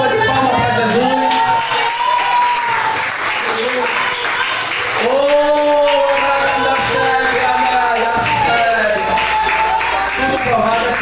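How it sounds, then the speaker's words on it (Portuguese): A church congregation claps and cheers at length, with loud, dense applause mixed with shouting and voices, keeping a steady crowd roar throughout. "uma salva de palmas para Jesus."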